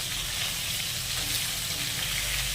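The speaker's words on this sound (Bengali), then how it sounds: "অল্প অল্প করে ভেজে নিতে হবে" Fish pieces frying in oil in a pan give a continuous, even hiss of sizzling at close range, with no voices over it.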